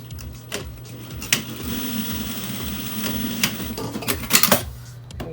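A sewing machine stitches a half-inch seam on a reusable fabric face mask, its needle hammering in a steady close mechanical rattle with small bumps in speed.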